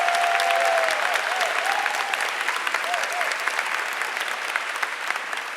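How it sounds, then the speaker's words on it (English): An audience applauds students at a high school senior awards ceremony, with a sustained, dense round of clapping that fades slightly toward the end. "Please give these students a round of applause."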